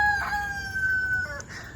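Chickens clucking and calling nearby, a sustained tonal cry rising over soft background noise, with no talking.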